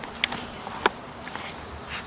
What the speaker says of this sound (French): Regardez, il y a des abeilles ici.